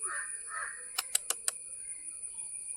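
A crow gives four quick caws in a short burst at a moderate distance. Steady insect-like tones and quiet background noise surround the calls.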